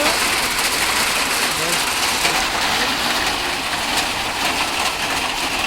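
Hail pours down in Rolpa, Nepal, a dense, steady hiss and patter of ice hitting the ground, close and continuous, with a faint voice underneath.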